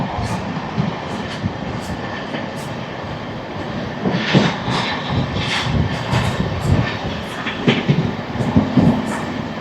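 The Amrit Bharat Express running at speed through Tamil Nadu, a steady loud rumble and rattle of rail cars with rhythmic wheel clatter and swelling surges, heard from on board.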